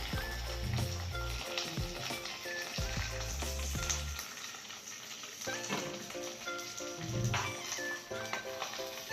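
Onion frying in hot oil with curry leaves for restaurant-style chilli chicken, a steady loud sizzle with crackling pops and occasional stirring scrapes throughout.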